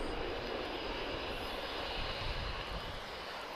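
A first-generation Vueling Airbus A320 with V2500 engines, flying Lisbon to Bilbao, makes a loud, steady jet roar close by at Lisbon Airport, holding constant throughout.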